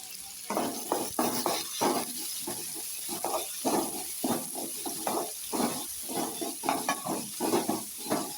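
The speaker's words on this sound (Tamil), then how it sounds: "வெங்காயம் ஓரளவு வதங்கினதும் கீறி வச்ச வரமிளகாவை எடுத்து சேர்த்துக்கலாம்" Pan sizzles and hisses while onions and dried red chilies are stirred, with repeated scraping strokes in an uneven rhythm; close and moderately loud, no talking.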